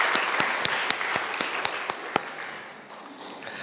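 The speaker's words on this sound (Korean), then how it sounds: "우리 한번 같이 격려하는 마음으로 한번 같이 박수하면 좋겠습니다." Congregation at a Korean church Sunday service in Winnipeg applauding together, a dense wash of clapping with sharp individual claps standing out, then fading to quieter room noise near the end.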